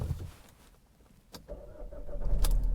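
A Vauxhall Insignia Elite CDTI diesel sports tourer starts on its push button after standing a while: a brief starter whir, then the engine catches with a loud rising rumble and settles close by.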